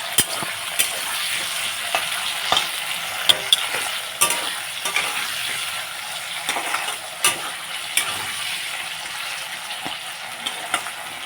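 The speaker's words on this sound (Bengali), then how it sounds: "আলুগুলোকে 2-3 মিনিটের মতো ভেজে নিলাম।" Potatoes frying with turmeric, salt and spices in a pan, a steady sizzle with frequent crisp spatula taps and scrapes scattered throughout, close and unaccompanied by speech.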